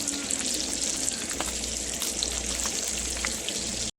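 Eggplant fries in a pan with a loud, steady, close sizzle and crackle that runs unbroken throughout.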